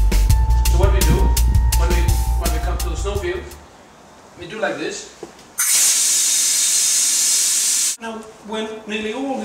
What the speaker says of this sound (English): Nearly all the tire, the air is out of the tire.